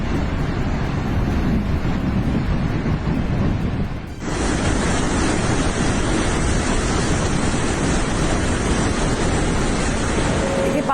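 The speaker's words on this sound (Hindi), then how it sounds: "देखिए पानी का बहाव कितना तेज है।" The Baspa river in Kinnaur, Himachal, swollen into a raging flood carrying heavy debris, rushes with a dense, continuous roar that swells louder midway and holds steady, with no voices.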